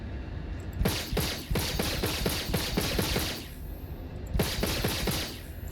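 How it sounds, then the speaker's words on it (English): A pistol in Star Citizen fires several quick sharp shots in a steady rhythm, then after a short pause another shot rings out, loud and close with no talk over it. "I'll shoot my pistol"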